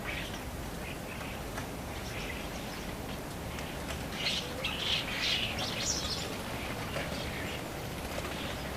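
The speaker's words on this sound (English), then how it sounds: "Young ones clamber over the coconuts as more and more birds arrive." A flock of juvenile birds gathered on coconuts squawks and chirps in scattered, overlapping calls, faint against a heavy wash of steady background noise.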